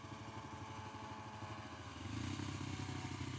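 Kawasaki KLX300 motorcycle engine idling then rising slightly in revs, a steady low pulsing thump up close that grows a little louder near the end, no talking.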